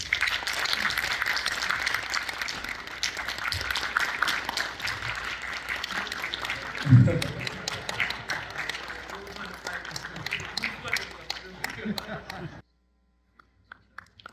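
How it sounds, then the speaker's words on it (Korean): An audience at an amateur astronomy society's inauguration ceremony applauds for about twelve seconds, a steady wash of clapping with one louder thump midway, before it cuts to near silence. "예, 큰 박수 부탁드립니다."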